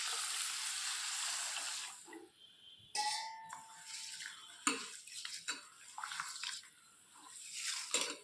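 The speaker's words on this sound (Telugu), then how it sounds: "ఇలాగా వాటర్ వేసుకొని ఒక 2 సార్లు కడగండి" Soaked lentils for jowar dosa washed with water in a vessel, a close sequence of pouring, swishing and splashing water with brief clinks against the container and quieter pauses between.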